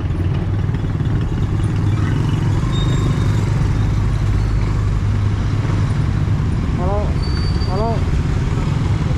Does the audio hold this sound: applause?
no